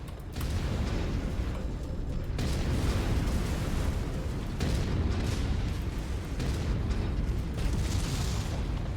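Sustained, dense roaring explosion noise from battle in the MechWarrior 5 video game, loud and continuous with a few abrupt shifts in intensity and no speech.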